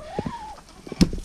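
A hen clucks briefly and close near a hen house, a short rising call followed by a couple of soft clucks.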